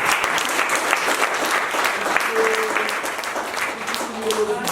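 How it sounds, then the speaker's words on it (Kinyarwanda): An audience at a Rwandan university college event claps in a sustained, dense round that rises and falls slightly, with a voice speaking over part of it. "mwamuhaye amashyi"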